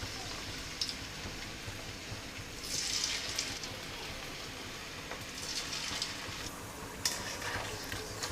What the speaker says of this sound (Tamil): புடலங்காய் வந்து நல்லா பொன்னிறமாக வர அளவுக்கு பொரிச்சு எடுக்கணும்